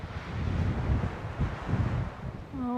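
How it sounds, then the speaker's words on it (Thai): Strong wind buffets the microphone at the Moran Point viewpoint on the Grand Canyon rim, a steady loud low rumble that gusts unevenly throughout, with no talk. "ลมแรงมากนะคะตรงนี้"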